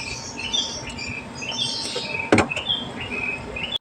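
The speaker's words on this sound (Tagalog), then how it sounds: "yung huni ng mga ibon." Birds chirp and call intermittently in the distance at the Floating Sanctuary in Santa Maria, Bulacan, over a steady outdoor background hum, with a brief rattling thump midway.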